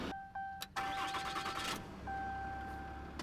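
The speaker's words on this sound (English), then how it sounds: "See, that's kind of a hard start" Truck engine cranking hard before catching, with a short stuttering crank burst then settling into a faint idle, accompanied by steady electronic chime tones.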